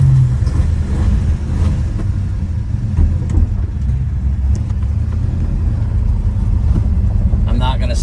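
A 1970 Plymouth Road Runner with a 383 V8 idles loud and close, a steady deep rumble with a lumpy pulse holding throughout, without speech over it.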